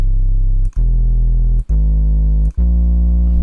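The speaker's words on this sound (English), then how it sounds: "Then also have these sub basses" Sub bass sample from a colour bass sample pack: four sustained, loud, deep bass notes, each held just under a second with short gaps between them, some with a gritty distorted edge.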